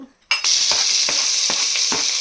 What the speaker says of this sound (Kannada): ಈಗ ನಾನು ಹೆಚ್ಚಿಟ್ಕೊಂಡಿದ್ದೆ ಮೀಡಿಯಂ ಸೈಜ್ ಈರುಳ್ಳಿ ಅದನ್ನು ಸೇರಿಸ್ಕೊಂಡಿದ್ದೀನಿ ಅದು ಸ್ವಲ್ಪ ಕೆಂಪಗಾಗುತ್ತೆ ಅಂತ ಫ್ರೈ ಮಾಡ್ಕೊಳ್ಳೋಣ